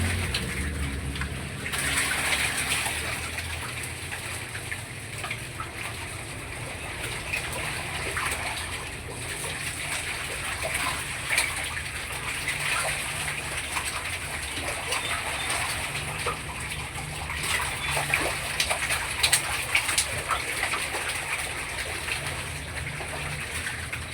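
Water gushes steadily into a container as the water is changed, a continuous broadband rush lasting throughout with no talk, faint bird calls in the background.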